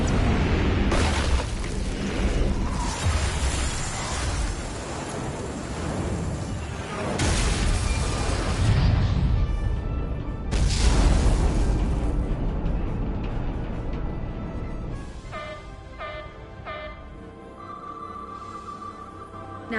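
Starship weapon salvo in the Star Trek Resurgence video game: heavy booming blasts and roaring bursts rolling over each other for several seconds, then fading into quieter electronic tones, loud and without talk.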